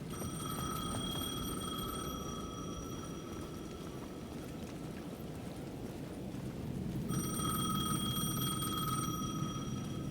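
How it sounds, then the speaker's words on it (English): A payphone at the edge of a plaza rings in the dark horror video game Alan Wake 2, a steady electronic ring over a low rumbling ambience, pausing midway then resuming, moderately loud with no talk. "The payphone at the edge of the plaza was ringing again."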